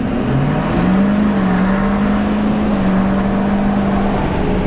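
A 2019 Ford F450 Lariat dually pickup with a 6.7L turbo diesel accelerates hard from a stop, a loud steady engine drone rising slightly in pitch then holding, heard from inside, with no talk.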